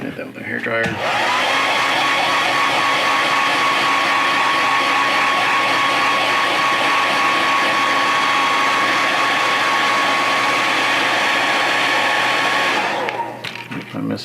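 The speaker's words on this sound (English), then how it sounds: "Hit that with a hairdryer." A hair dryer blasts steadily onto a freshly painted 1/4-scale Hellboy figure, a loud, close, continuous whooshing whir that starts abruptly and cuts off just before the end.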